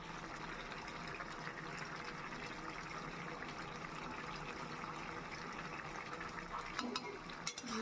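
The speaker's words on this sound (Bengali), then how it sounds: "সঙ্গে সঙ্গে নাড়ছি" Bottle gourd and prawn curry stirred in a pan after a little flour is added to thicken it, a faint continuous bubbling simmer with soft spoon scraping throughout and a couple of sharper clinks near the end.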